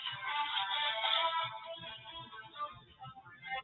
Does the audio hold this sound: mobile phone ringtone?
yes